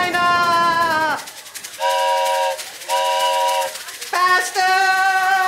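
A person imitates a train with their voice, making a series of loud, sustained whistle-like tones in four separate bursts with short gaps between them.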